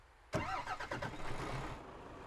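An Ashok Leyland bus engine in a driving video game cranks and catches abruptly, then settles into a loud, steady idle rumble with a few uneven surges.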